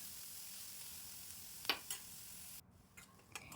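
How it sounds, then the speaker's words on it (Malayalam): Green chillies and onion sauté in a pan over a medium flame with a soft, steady sizzle, broken by a few sharp clicks of stirring before the sound drops away near the end. "പച്ചമുളക്, സവാള ഇത്രയും ചേർത്ത് നല്ലതുപോലെ ഒന്ന് വഴറ്റിയെടുക്കാം"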